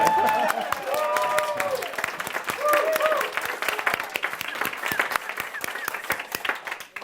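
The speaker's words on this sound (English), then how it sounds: "Let's take a moment and applause." Audience applause at a spiritual gathering, a burst of clapping that starts strong and gradually thins and fades, with voices and laughter mixed in over it.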